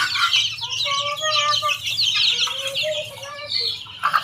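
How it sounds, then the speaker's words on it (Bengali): Many farm chicken chicks chirp in high, repeated peeps with soft clucking mixed in, a busy flock close by under a low steady hum. "এই যে ফার্মি মুরগির বাচ্চাগুলো মাশাআল্লাহ আস্তে আস্তে বড় হচ্ছে"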